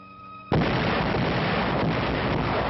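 Heavy Allied artillery guns open fire together, a sudden loud blast at about half a second giving way to a sustained, dense roar of continuous gunfire with no voices.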